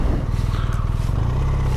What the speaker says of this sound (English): Sounds okay as well, stock exhaust